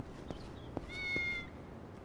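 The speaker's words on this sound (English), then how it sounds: "You all heard the cat noise" A cat meows inside a video game, a few short faint calls and one longer drawn-out meow over a quiet background, with a sudden loud sound at the very end.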